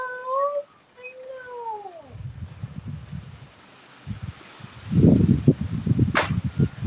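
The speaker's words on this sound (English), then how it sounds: "I hate when animals are like meowing and starving." A cat meows several times up close while being offered chicken, rising and falling cries early on, followed by rustling and handling noises, another short sharp meow near the end, and a brief spoken word.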